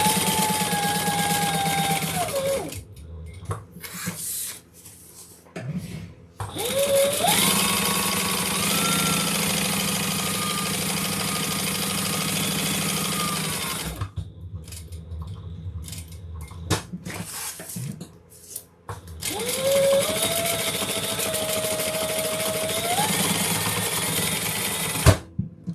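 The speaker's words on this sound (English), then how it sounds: "we're going to sew along the sides" Sewing machine stitching along the sides and bottom of a fabric project, loud close motor whir in several long bursts, each ramping up and winding down, separated by pauses with small handling clatter.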